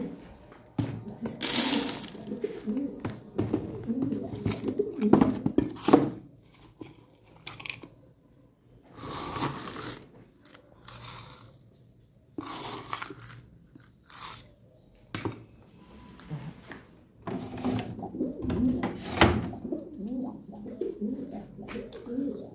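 Pigeons coo repeatedly in a loft where squabs are raised, producing low, throaty calls in bursts, close by, with some pecking and crunching sounds in between.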